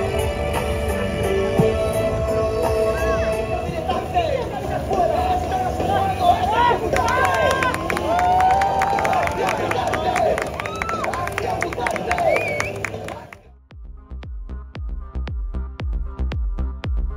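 A crowd watching foreigners perform a fire show on Arambol beach, Goa, with a loud babble of voices, cheers and scattered clapping that cuts off sharply near the end, leaving faint ticking.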